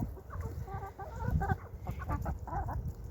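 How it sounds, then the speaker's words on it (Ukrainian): Several hens cluck in a cold winter village farmyard, with soft, overlapping clucks close by that continue steadily without any talking. "І сім курочок."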